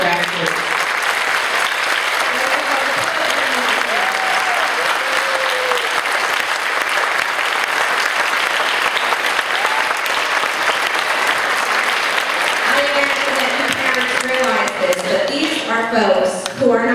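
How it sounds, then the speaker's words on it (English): A loud, dense wave of audience applause at a county elementary school music festival honors the music directors, sustained for many seconds, with cheering and voices rising near the end. "I want to hear a really loud applause for the wonderful music directors"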